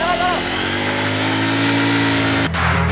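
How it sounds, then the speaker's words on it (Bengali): A GPX Demon motorcycle rides along the seaside Marine Drive road at Cox's Bazar, its engine holding a steady, close, droning hum with a layered harmonic buzz. The upper wash of sound drops away abruptly near the end. "সমুদ্রের পারে বাইক রাইড"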